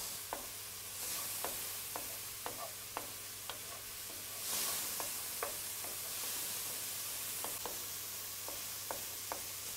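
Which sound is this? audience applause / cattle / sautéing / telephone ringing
sautéing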